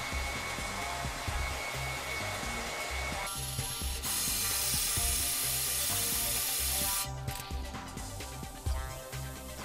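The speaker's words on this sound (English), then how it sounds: "with the hairdryer, it dries out nicely" A handheld hairdryer blows a steady, close, loud whoosh while it dries thick paint on a plastic model tank kit. Rattling mechanical clicks run under the airflow throughout.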